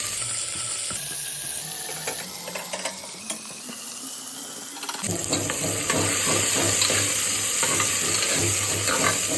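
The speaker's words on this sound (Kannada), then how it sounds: "ಎಣ್ಣೆ ಸ್ವಲ್ಪ ಬಿಸಿ ಆದಮೇಲೆ ಹಚ್ಚಿಟ್ಕೊಂಡಿರೋ ಈರುಳ್ಳಿ ಹಚ್ತಾ ಇದ್ದೀನಿ" Chopped onions drop into hot oil in a pan for a country-style chicken sambar, the sizzle swelling into a loud, dense, continuous frying hiss with crackles after the first few seconds, close up.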